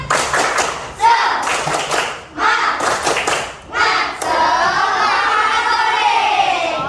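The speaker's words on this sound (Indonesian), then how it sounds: "Tepuk semangat." Children in an Indonesian classroom perform a rhythmic spirit clap, bursts of group claps and voices in patterned rounds, loud and close, with a teacher speaking between them.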